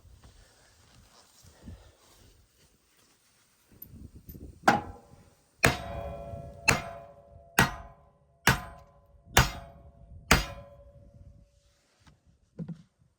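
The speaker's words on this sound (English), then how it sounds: "we better grab the hammer. Give these 2 a good wallop." A hammer delivers about six hard, ringing blows to rusted parts on a machine depth adjustment, evenly spaced metallic clangs standing out loud against a quiet background with faint handling noise between them.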